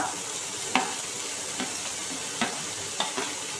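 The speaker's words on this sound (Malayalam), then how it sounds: "അതേ എണ്ണയിലേക്ക് തന്നെ നമുക്ക് ഉള്ളി മൂപ്പിക്കാനായിട്ട് ഇട്ടിട്ട് വെക്കാം" Onions frying in hot oil with curry leaves for a tawa egg fry, a steady close sizzle broken by a few soft stirring scrapes, with no talk.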